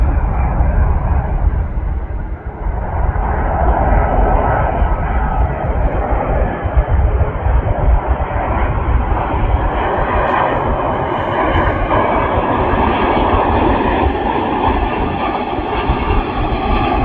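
Qatar Airways Airbus A350 from Doha landing at Manchester Airport, a loud, steady roar of jet engines and rushing air that holds close and constant throughout, with a slight rise in pitch toward the end.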